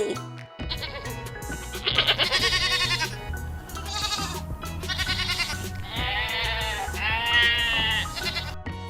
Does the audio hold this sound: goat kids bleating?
yes